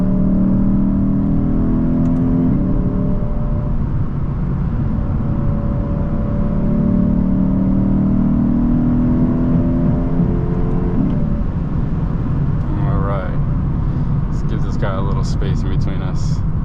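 A 2023 Lexus IS500 V8 in manual mode pulls hard with a steady droning engine note rising in pitch through two long sweeps, cabin noise throughout and a brief voice near the end.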